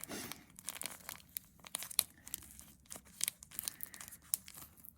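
Close crinkling and ripping of plastic packaging, with crackly tearing bursts and rustling that continue unevenly throughout.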